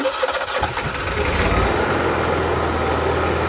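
An Onan Marquis Gold 5500 RV generator cranks and catches, then settles into a steady, loud mid-pitched running drone with no voices, after repair of a bent intake manifold.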